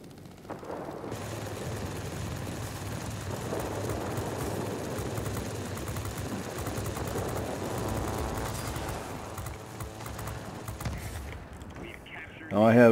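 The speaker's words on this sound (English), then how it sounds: "Now I have 8 rifle caliber machine guns, just as it was in the war." Steady, continuous chatter of eight rifle-caliber machine guns firing from a Hurricane 1A fighter in World of Warplanes, a dense droning rattle over engine noise, with someone talking across it.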